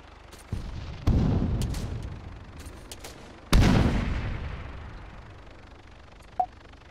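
Grenades in the video game Arma go off in several heavy booms, each with a long rumbling tail. Two come close together, then a louder one follows, and a small sharp pop sounds near the end.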